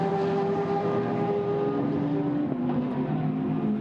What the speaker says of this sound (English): chasing after Hardy Woodcock as they go through the right-hander.